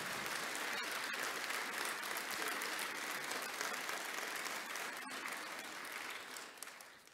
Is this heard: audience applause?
yes